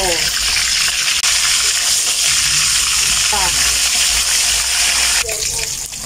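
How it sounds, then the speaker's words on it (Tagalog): Tilapia sizzling in a frying pan as it is flipped, a steady loud hiss of hot oil filling the clip with brief clatters at the turns. "So ayan, baliktarin na natin yung ating prito."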